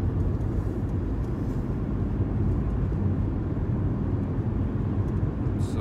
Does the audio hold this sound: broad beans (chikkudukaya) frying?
no